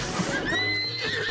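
A horse neighs in Zelda: Breath of the Wild, one clear whinny with a rising, wavering tone over a steady game backdrop, close and fairly loud, with no talk.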